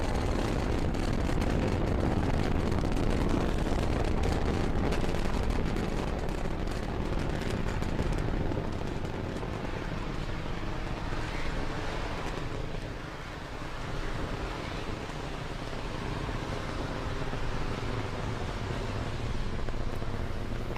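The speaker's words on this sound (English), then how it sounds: "Falcon 9 has successfully cleared the pad and is now on its ascent with the TESS spacecraft in its fairing" A Falcon 9 rocket lifting off with the TESS spacecraft, a continuous loud broadband roar that rumbles steadily throughout with a slight dip midway, with no voices over it.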